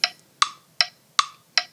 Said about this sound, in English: So I've got a metronome app on my phone.